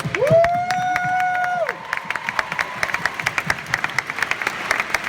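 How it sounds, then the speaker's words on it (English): A crowd at a professional bodybuilding contest in Poland applauds and cheers the competitors. Loud whistles and cheers over clapping open the round, which settles into scattered, uneven claps with a few shouts. "So please just help me give everybody a round of applause."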